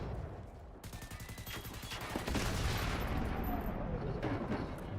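Robot enemies in the shooter Generation Zero fire in loud, dense rattling volleys with booming bursts, building to a sustained roar of gunfire and explosions.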